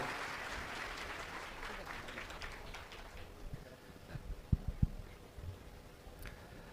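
Audience applause in a packed hall at a Tamil debate event at the Thanjavur book festival, a steady soft wash of clapping with a few sharper claps near the end.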